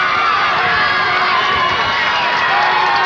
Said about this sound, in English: a pretty lively crowd here today cheering on their team